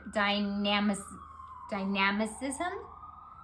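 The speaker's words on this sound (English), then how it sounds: "I'm sorry about the ambulance again." An ambulance siren passes outside, its wailing tone rising and falling loudly in two bursts, with a person talking over it indoors.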